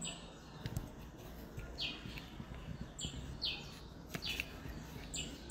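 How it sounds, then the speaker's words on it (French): A small bird chirps outside a French apartment, short bright tweets repeating irregularly over a low background hum, moderately distant and with no speech. "Bonjour, petit oiseau."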